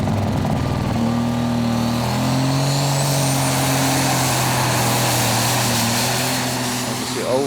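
A superstock tractor roars at a tractor-pull event, with its loud engine note rising and holding steady against continuous crowd and arena noise. An announcer talks over it at intervals.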